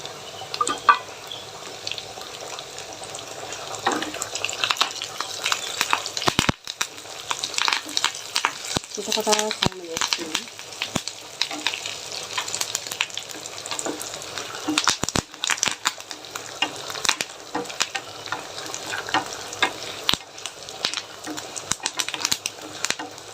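Curry leaves crackle and sizzle in hot oil, a dense steady frying hiss with bursts of popping and a brief stir partway through, heard close and continuous.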